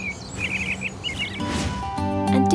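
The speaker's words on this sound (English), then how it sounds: "Did you hear the sound that the birds were making?" Small birds chirp in quick twittering bursts near a cup nest. Then a brighter tonal sound, like music, rises and grows louder toward the end.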